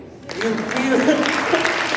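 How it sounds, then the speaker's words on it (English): Congregation clapping in a church during a Bible study on the book of James, a sustained mass of claps rising after a quiet start, with voices talking over it. "Yeah, so clap."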